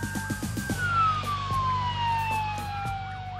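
Emergency vehicle siren wails at a staged accident scene in Dubai, a loud, steady tone gliding slowly downward in pitch and continuing throughout with no talking.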